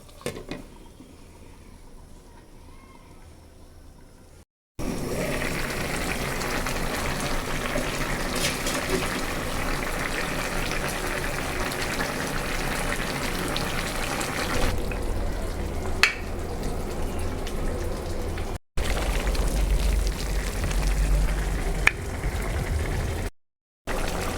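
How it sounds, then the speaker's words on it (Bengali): Curry of beans, potatoes and tilapia simmers in a covered pan, giving a steady bubbling, boiling hiss with occasional lid and pot clinks and brief cutoffs. "ঢেকে দিয়ে তরকারিটা রান্না করে নিচ্ছি"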